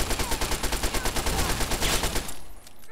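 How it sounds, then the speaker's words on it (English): Submachine gun fire in Fallout 3, a rapid, steady burst of evenly spaced shots lasting about two seconds, loud and close, then cutting off into a quieter tail. "I guess we'll just get the submachine gun then."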